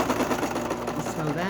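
A sewing machine stitches a cotton and lace quilt block, a quick, even mechanical chatter running steadily under a voice talking close by.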